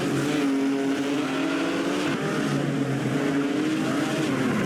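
Talbot-Lago race cars of the 1950 Pau Grand Prix roar through a street-circuit hairpin, engines droning loudly and continuously with shifting pitch as they brake and accelerate, several cars overlapping close by.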